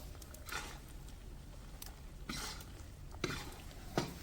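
Wheat flour roasting in a pan for panjiri over low heat, stirred with a spoon that scrapes and taps the pan in occasional soft strokes over faint background hiss.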